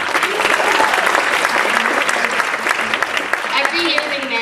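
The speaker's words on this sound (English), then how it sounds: "give another round of applause to Sejal and Ronak." An audience at a community stage show claps steadily in a dense, loud wash of applause that fills the whole stretch with no pauses.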